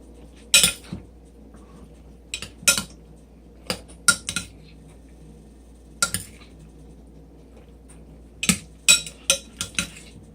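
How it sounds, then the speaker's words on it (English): Metal utensil clinking and scraping against a bowl while stirring milk and eggs for a Velveeta cheese dish, in a series of sharp, close taps and clinks spread irregularly across the clip. "Let's stir it up and see how that's going to turn out first."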